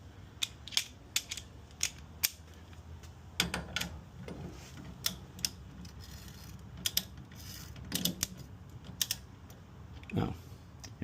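A ratchet wrench tightens bolts on a Techno Toy Tuning big brake kit fitted to a 1977 Celica. Sharp, close clicks come in quick bursts with short pauses between them, over quiet shop background.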